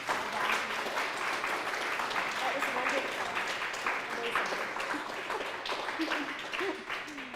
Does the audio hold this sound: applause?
yes